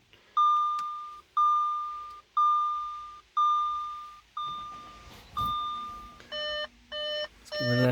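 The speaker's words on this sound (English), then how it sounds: "Let's get rid of that beep." An Audi with a 3.0T engine sounds a warning chime once the engine start button is pressed: a run of evenly spaced, clear electronic beeps, a handful in a row, then a quicker two-tone pattern near the end, with no talking.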